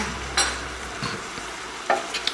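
Oxtail and butter bean stew ingredients with tarragon are stirred in a pot, producing soft sizzling under a few brief scraping and clinking strokes, close and fairly loud, with no voices.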